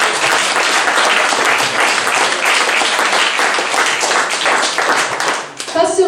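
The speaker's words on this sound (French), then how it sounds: "On peut les applaudir." Sustained, dense audience applause fills an event hall celebrating twenty years of a local history group in Vence, steady and loud before tapering off at the end.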